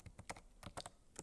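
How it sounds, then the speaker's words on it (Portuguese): Typing on a computer keyboard, a quick run of light, close keystrokes clicking in uneven bursts, faint and alone. "Então vou digitar aqui de novo"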